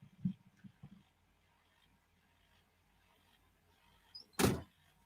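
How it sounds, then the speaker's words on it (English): A car door shut once with a single loud, close thud near the end, after quiet rustling and a few faint knocks. "Soon as I shut the door."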